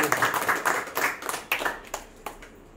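A church congregation claps during a Tamil worship service, a dense burst of hand claps that thins out toward the end, fairly close with no talk over it.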